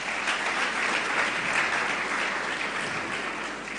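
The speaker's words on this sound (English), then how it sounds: "The very best we can do is to clap for the organizers of this event" A conference crowd at Akwa Ibom Tech Week claps for the event organizers, a dense, continuous roar of applause filling the hall evenly for a few seconds with no speech over it.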